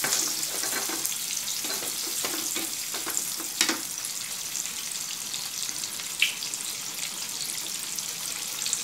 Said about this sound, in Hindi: टमेटो सॉस वो ऐड करके अच्छी तरह से पहले हिला लेती हूँ।